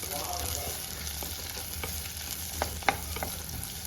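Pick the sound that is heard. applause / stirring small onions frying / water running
stirring small onions frying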